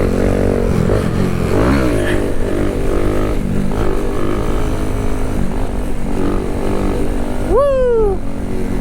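A Kawasaki Z125 motorcycle engine drones steadily through third gear wheelies, loud and close throughout, then gives a sharp rising rev that climbs quickly and falls away near the end.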